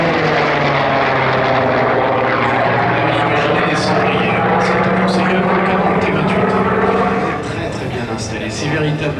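Loud, sustained piston-engine drone from a Corsair F4U-5 propeller plane at an air show, dipping slightly near the end, while a commentator talks over it.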